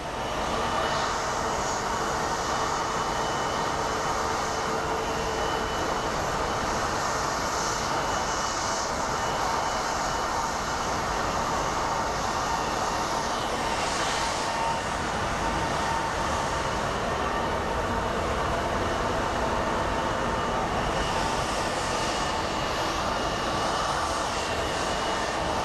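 A Frontier Airlines Airbus A320neo jet airliner gives off a loud, continuous broadband roar that holds steady throughout, heard from an airport.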